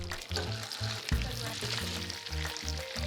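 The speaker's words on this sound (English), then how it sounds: "Once you get a slow sizzle, it's time to add the lobster tails." Steady, crackling sizzle of lobster tails frying in butter, close up, with occasional stirring or shifting sounds in the pan.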